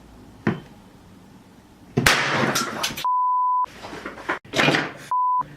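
Pure steady tones played from a cell phone through a speaker driven by a homemade amplifier circuit, two separate beeps, one long and one shorter, between bursts of clattering handling noise.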